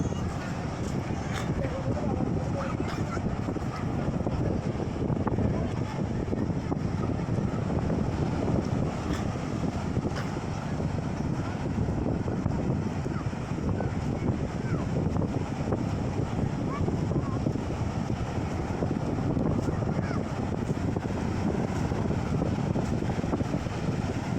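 A fishing trawler crosses the sea in the monsoon season on the way to Saint Martin's Island, its engine drone and the wind making a steady, dense roar with no pause.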